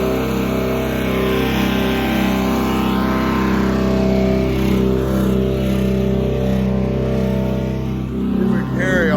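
A small wood chipper on big wheels runs steadily nearby with a continuous droning engine hum, working in a backyard chicken run and orchard, with a voice talking faintly over it.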